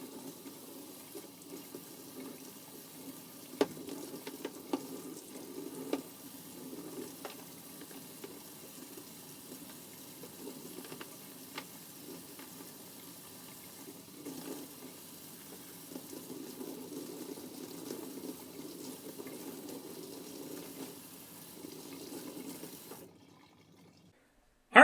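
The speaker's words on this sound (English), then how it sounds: "Each part was thoroughly rinsed in order to remove bleach residue." Parts from a 1962 Heathkit Mohican GC-1A shortwave receiver are rinsed under running water to wash off bleach residue, giving a faint, steady trickle and splash for about twenty-four seconds that cuts off abruptly at the end.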